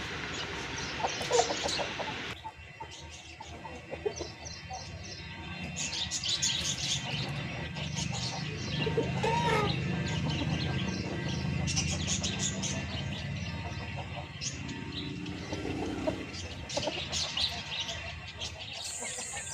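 An Aseel parrot-beak rooster, about nine to ten months old, clucks and calls repeatedly at close range, with chirping birds and farmyard noise in the background.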